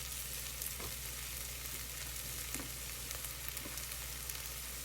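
Onions and garlic frying in a pot give a faint, even sizzle against a low hum, with a few soft stirring knocks and a small click at the very end. No voices are heard.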